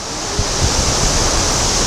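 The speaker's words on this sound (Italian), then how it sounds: "guarda che cascatone" A large waterfall, the Fontanone di Goriuda near Chiusaforte, roars as a loud, dense, steady wash of falling water close by, with no talk.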